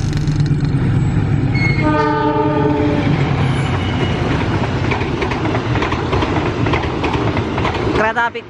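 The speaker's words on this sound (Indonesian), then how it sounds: "Kereta api Kamandaka." The Kamandaka passenger train in Indonesia roars past close by with a loud, sustained horn blast early on, then steady rumbling and rhythmic clacking of wheels over rail joints.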